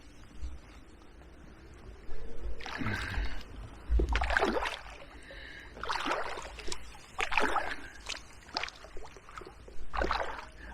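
A kayak pushes through a narrow, overgrown section of the River Stour, its paddle snagging, with irregular splashes, scrapes and rustles at close range over a steady low background.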